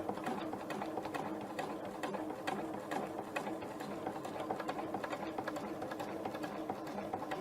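Sewing machine stitching half of a quilt star template, running a steady, fast continuous whir of needle strokes close up with no pauses.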